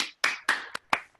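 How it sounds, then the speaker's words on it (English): Participants in an online lecture clap briefly over their unmuted microphones, four or five quiet, separated claps heard alone. "I'm going to ask the participants to unmute themselves for a round of applause."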